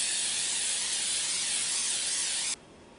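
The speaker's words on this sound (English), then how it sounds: "I'm just using spray-on olive oil." Spray-on olive oil hisses steadily from a can onto a baking sheet for about two and a half seconds, a close, even spray that then cuts off abruptly.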